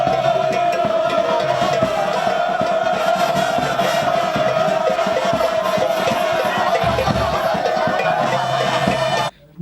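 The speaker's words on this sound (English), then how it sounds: "This was the crowd that met Dr. Papakwesi Indum at Machekope." Large crowd gathered at a campaign rally in Machekope, Ghana, a dense continuous roar of voices with cheering and shouting, steady and loud throughout.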